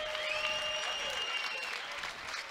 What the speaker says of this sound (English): Ladies and gentlemen, a round of applause for these two fighters.